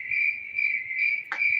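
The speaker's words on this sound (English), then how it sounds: "Those crickets were the most appropriate sound that it could have sounded at that particular moment" Crickets chirp in a loud, steady, evenly pulsing trill, close and continuous, with one brief tap partway through.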